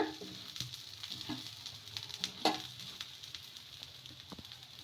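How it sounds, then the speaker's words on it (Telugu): Oil crackles and sizzles faintly over a pesarattu, a green gram dosa, on a hot griddle, with soft irregular pops and a few light taps scattered through a low, steady hiss. "ఇప్పుడు నూనె వేసుకుందాం ఈ విధంగా పైన"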